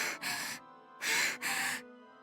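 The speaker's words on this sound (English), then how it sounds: "Tsubaki was gasping for air with huge gulps" Two pairs of sharp, breathy gasps from a girl in a visual novel, each pair quick and close together with a short pause between, loud and near with no other sound around them.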